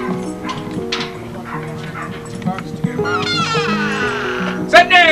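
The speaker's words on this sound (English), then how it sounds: "Look at that fine animal there. Ferocious dog." A dog at a Florida house yips and whimpers in short bursts while someone talks over it, with a sharper bark near the end.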